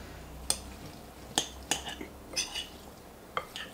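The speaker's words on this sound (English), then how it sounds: "we're going to use our spoon and we're going to mix our food up" A small spoon stirring a balsamic mustard vinaigrette in a dish, giving several sharp clinks and scrapes against the container in an irregular rhythm, close and fairly quiet, with no talking.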